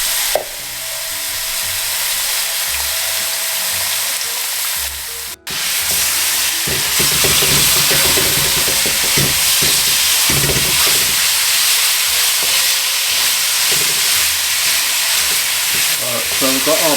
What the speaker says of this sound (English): we're going to go over to our oil, which should be hot enough by now, and we're going to just sear off our